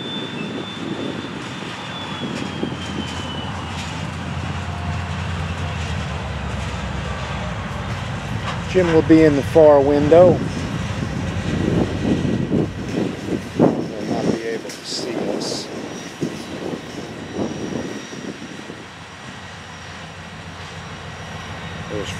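Diesel locomotive 427 rumbles steadily at a distance as it shoves 20 loaded freight cars, Herzog cars plus dumpers, with someone speaking briefly over the engine noise.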